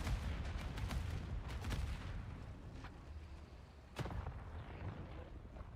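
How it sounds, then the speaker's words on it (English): Airstrike explosions and booming fire in the tank battle game World of Tanks, a cluster of sharp blasts early on and another hit near the end, all over a steady low rumble. "Airstrike should take them out."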